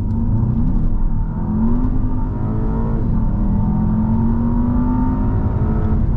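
A Volkswagen Passat engine revs hard with the accelerator floored, giving a loud, continuous rising drone as the revs climb smoothly with no talk over it.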